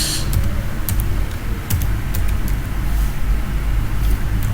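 Keyboard keys tapped in quick irregular bursts while an email address is typed in, over a steady low rumble of road traffic in the background.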